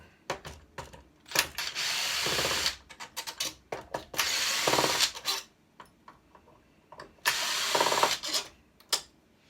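A power drill drives long screws out of a Crestron audio unit in three loud, sustained whirring bursts, with ratcheting clicks and handling knocks in the gaps between them.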